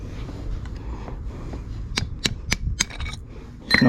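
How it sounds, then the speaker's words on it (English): A hammer strikes a punch to drive out a car's rear brake pin, giving a series of four or five sharp metallic taps spaced about a quarter second apart, fairly close and moderately loud. "Just knock that pin out."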